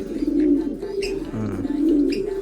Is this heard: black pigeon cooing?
yes